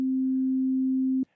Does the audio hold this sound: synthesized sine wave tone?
yes